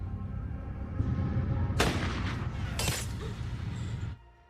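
Gunfire in a sniper action film scene: two sharp loud cracks about a second apart over a dense low rumbling soundtrack, followed by a quieter tail.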